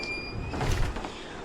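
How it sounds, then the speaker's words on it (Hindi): An old door swings slowly open on its own, a brief creaking slide ending in a low hollow thud, close and moderately loud. "पुराना दरवाजा धीरे धीरे अपने आप हिलने"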